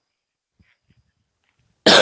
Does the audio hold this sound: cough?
yes